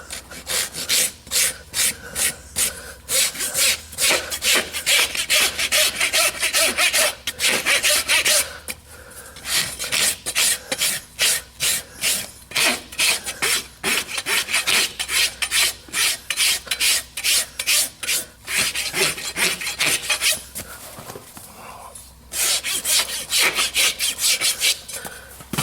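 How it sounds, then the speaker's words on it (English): A Bellota Top Level farrier rasp files a horse hoof in a shop with fast, steady back-and-forth strokes, loud and close, each stroke a coarse scraping burst, with a few short pauses between runs. "do most of it with the rasp. Use the Bellota Top Level."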